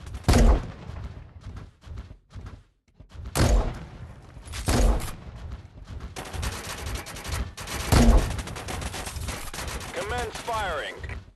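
Gunfire at a shooting match: several loud, sharp shots ring out close by in uneven bursts with short gaps between them, while voices talk in the background.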